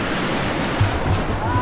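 Ocean waves wash onto the white-sand shore of Laki Island beach in Mariveles, Bataan, a steady broadband surf roar with wind buffeting the microphone and a few low thumps, continuous and close throughout.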